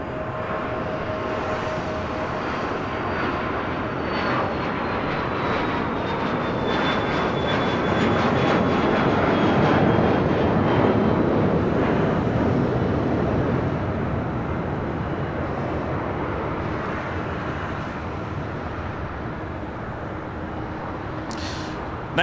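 A plane taking off from LAX roars steadily with broadband engine noise that swells to a peak midway and then eases slightly, heard from a distance without talk.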